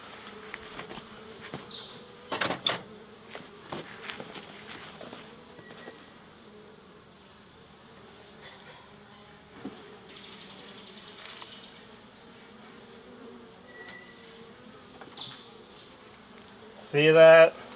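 A honey bee swarm buzzes steadily at low volume, with a few louder nearby passes and a sharp loud burst at the end.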